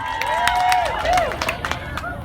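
Concert crowd in Thailand clapping and cheering for three artists at an army charity concert, a dense burst of handclaps and crowd noise under sustained musical tones that fades slightly toward the end.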